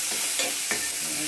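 Potatoes hit hot oil with cumin seeds, giving a loud, continuous sizzle with a few stirring scrapes in one brief burst and no talking.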